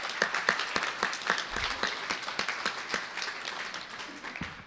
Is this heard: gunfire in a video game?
no